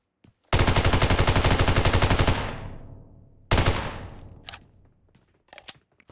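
Rapid Tommy gun bursts in PUBG Mobile, loud and close: a sustained two-second stream of automatic fire, a pause, then a shorter burst with decaying echo and a few scattered shots afterward.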